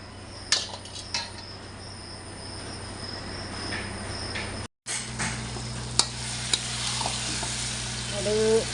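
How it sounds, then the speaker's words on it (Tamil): Curry leaves, onion, tomato and green chili sautéing in oil, a continuous sizzle with occasional spoon scrapes against the pan, crickets chirping steadily in the background and a short gap partway through. "எண்ணெய் கருவேப்பிலை வெங்காயம் தக்காளி பச்சை மிளகாய் எல்லாத்தையும் போட்டு நல்லா வதக்கடணும்"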